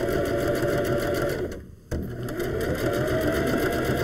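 A sewing machine runs steadily through a quarter-inch seam on fuzzy sweater fabric, making a close, continuous whirring stitch with a brief slowdown partway through before resuming at full pace.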